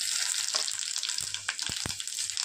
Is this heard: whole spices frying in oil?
yes